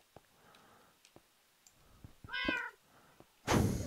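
Several cats meowing in Minecraft, a hardcore vanilla game on version 1.17.1, a cluster of stacked meows arriving almost together after scattered soft clicks and taps, followed by a louder broad burst of noise.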